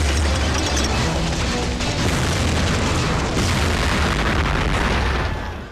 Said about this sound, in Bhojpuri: 11 जुलाई 2006 मुंबई ट्रेन में बम विस्फोट